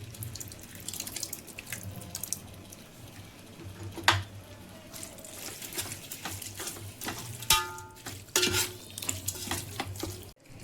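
Biryani masala with curd cooking in a pan, stirred with a spoon: soft sizzling and wet scraping with a few sharper clinks, steady and close throughout with no talking.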